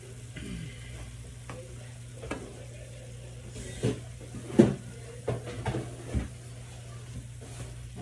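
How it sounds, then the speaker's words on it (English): Black beans are stirred into a cooking mixture, with a low sizzle and soft, scattered scrapes and thumps from the spoon against the pan. No talk is heard. "Now is the time that I want to take it and mix it"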